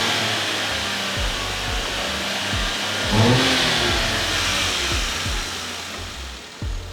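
Car engine revving as the throttle is pressed, a mid-pitched rise in engine roar near the middle of the clip that settles back to a steady idle hum, heard up close.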